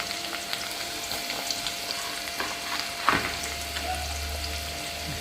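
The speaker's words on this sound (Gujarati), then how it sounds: "તો ડુંગળી નાખી અને થોડું ઘણીવાર પાછું કરી અને કમ્પ્લીટ ડુંગળી શેકશું" Onions frying in a pan give a low, steady sizzle with a few soft stirring scrapes and a brief clink midway, heard fairly quietly against a faint background hum.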